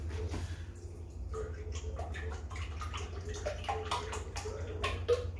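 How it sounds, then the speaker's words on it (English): Heavy whipping cream is poured into a container, a soft, steady liquid trickle and splash that runs for several seconds at low volume, with faint background noise and no clear talk. "So the process is we pour in the heavy whipping cream"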